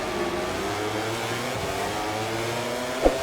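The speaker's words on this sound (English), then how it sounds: "We have 10 red lights, we rev the engine up, and we are on the way." A motorcycle engine revs at the start of a rainy sprint race at Sepang in the video game MotoGP 24. It is a steady, droning buzz that holds for several seconds, with a brief louder burst near the end.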